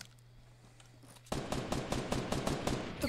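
Rapid automatic gunfire in the video game Fortnite, a quiet stretch of faint distant shots giving way to a loud burst of repeated close shots with a steady rhythm.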